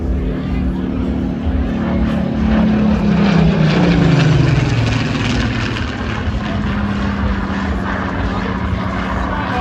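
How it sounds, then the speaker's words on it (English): Spitfire PS-853, a photo-reconnaissance fighter, passing at the Ayr airshow. Its propeller engine drones loudly and its pitch drops clearly as it goes by, then a steady hum continues beneath a commentator's voice. "they represent the pinnacle of the Spitfire's development in terms of speed and altitude"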